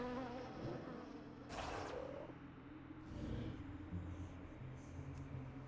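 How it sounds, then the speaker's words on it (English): Buzzing swarm of flies from the Swarm of Flies pet ability in a World of Warcraft pet battle, a quiet insect drone with a brief louder burst, faint and alone. "Swarm of Flies."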